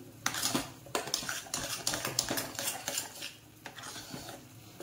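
Mung dal is stirred in hot ghee in a pan with a spoon, giving repeated metallic scrapes and clinks against the pan in an irregular rhythm, close and fairly loud, with a faint sizzle beneath.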